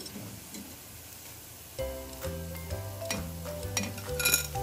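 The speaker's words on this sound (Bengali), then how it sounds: "ডিম ফ্রাই হয়ে গেছে, সুন্দর মুচমুচে হয়েছে বড়াগুলো" Fish-oil egg fritters (boras) fry in a pan with a quiet, even sizzle. After a moment, stirring, light clinks and a steady tonal backing join in and grow a little louder toward the end.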